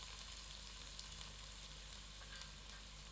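Onions frying in a pan over medium heat, a steady soft sizzle with faint crackles and an occasional stir, fairly quiet and close.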